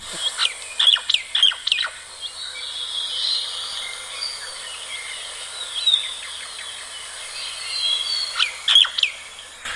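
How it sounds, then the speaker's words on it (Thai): Bright, repeated calls and chirps of a common myna ring out intermittently over a faint insect hum, moderately distant in an open outdoor setting. "อย่างอันนี้นกไทยนกเอี้ยงอย่างเงี้ย"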